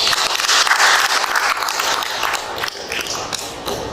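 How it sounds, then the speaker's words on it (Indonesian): An audience at a talk on Islamic boarding schools during the pandemic claps for a doctor, a dense, fairly close patter of many hands that stays steady throughout, with no voices over it. "saya minta beri aplaus untuk Pak Dokter ini"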